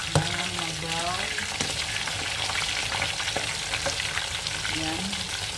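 Kushari ingredients frying in a pan, with a steady close sizzle and frequent sharp splattering pops. Brief background voices can be heard.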